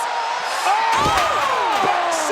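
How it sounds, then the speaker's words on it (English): A steel chair strikes a wrestler at a WWE women's event, a sharp slam over a loud roaring arena crowd with rising cheers and whoops under commentary. "But Becky responds to that chair shot in kind"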